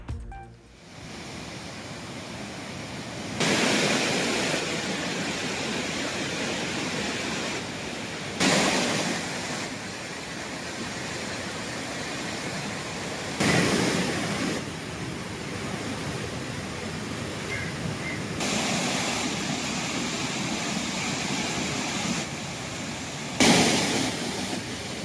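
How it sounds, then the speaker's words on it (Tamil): Thiruparappu waterfall in Kanniyakumari district, swollen by flooding on the Kothaiyar river, roars with a loud, unbroken rushing wash, swelling in repeated surges every few seconds. "கன்னியாகுமரி மாவட்டம் திருப்பரப்பு அருவியில் ஆர்ப்பரித்து கொட்டும் தண்ணீர்."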